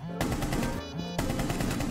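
Rapid gunfire from the video game Rainbow Six Siege fills the clip, a dense automatic burst with a brief dip in the middle before the shooting resumes at the same loud level.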